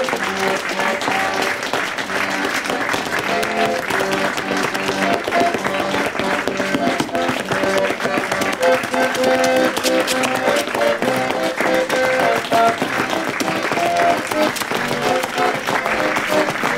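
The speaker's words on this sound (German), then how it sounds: "Schlussapplaus." Sustained applause from an outdoor summer theater audience at the end of a performance, dense steady clapping continuing loud and unbroken throughout.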